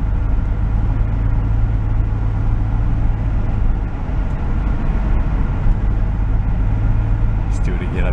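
A 1970 Mercury Cougar, recovered from a scrap yard and running on 93-octane fuel, sends a steady low engine rumble through the cabin while driving. The rumble is loud and continuous, with people talking over it.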